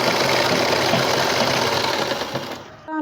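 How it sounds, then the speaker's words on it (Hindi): A sewing machine stitches folded fabric strips for a newborn baby's jhabla dress, running loud, close and steady with a fast mechanical whirr for nearly three seconds before stopping abruptly. "इसी तरह हम सारी पट्टियों की सिलाई लगा लेंगे।"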